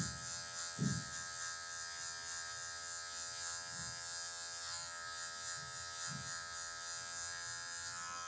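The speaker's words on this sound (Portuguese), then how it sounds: "só com o biquinho da máquina, movimento C, para tirar essa marcação aqui" An electric hair clipper running steadily while cutting hair for a short fade, a constant high-pitched buzz with a few soft low bumps as it passes over the head, no talking.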